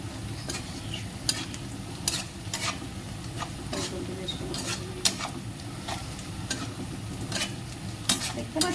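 Fried chicken 65 pieces are added to a pan and stirred, a low steady sizzle broken by repeated sharp spoon-on-pan scrapes and clacks at an irregular rhythm; a voice speaks briefly.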